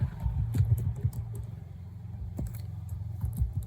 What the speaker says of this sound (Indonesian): Kita ketikkan perintah conda